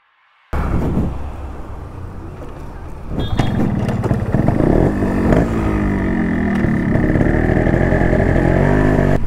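A Yamaha RX 135 two-stroke motorcycle engine starts up and runs steadily, revving and rising in pitch as it pulls away, loud and close.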